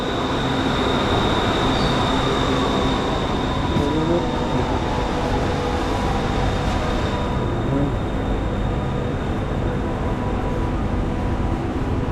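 A metro train runs underground toward the tunnel beneath the Chao Phraya River, giving a loud, steady rumble with a high wheel squeal that holds for the whole stretch.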